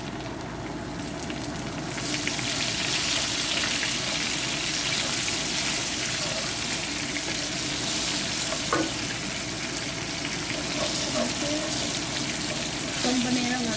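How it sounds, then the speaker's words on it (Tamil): Spices and curry leaves sizzle in hot oil for Tamil upma, giving a constant close crackle and hiss. Occasional clinks and stirring sounds cut through, with a voice talking faintly underneath. "ரொம்ப நேரம் அது இந்த ஸ்பைசஸ் ஃப்ரை பண்ணக்கூடாது"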